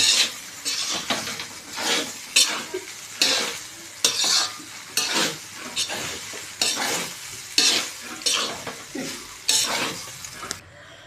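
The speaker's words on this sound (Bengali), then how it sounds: "আপনারা যখন রাইস দেবেন তখন একটু ভালো করে নাড়াচাড়া করে দেবেন, যাতে রাইসটা না জড়িয়ে যায়।" Fried rice is stirred in a hot pan, a spatula scraping in a steady rhythm of repeated strokes over continuous sizzling, close and fairly loud.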